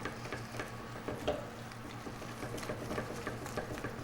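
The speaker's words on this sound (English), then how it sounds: "we put it right back on the stove as we mix" Choux pastry dough being stirred in a pan on the stove, giving repeated soft scraping and thick, slapping strokes at a steady rhythm under a faint background hum.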